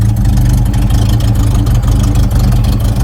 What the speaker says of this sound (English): Now it's got serious exhaust leaks